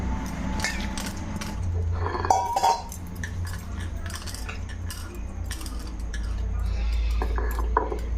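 A stone grinding slab and its grinding stone are washed in a home kitchen, with scattered clinks, knocks and scrapes of stone over a steady low hum, close by.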